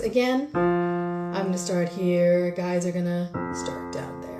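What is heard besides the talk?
None of the usual background noises is heard.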